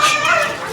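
Dogs yelp and whimper at close range, a continuous excited high-pitched clamor with bursts of barking that fill the short moment.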